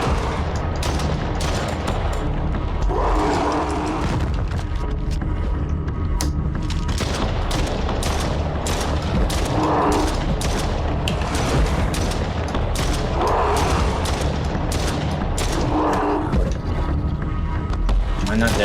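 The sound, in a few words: gunshots in Stray Souls video game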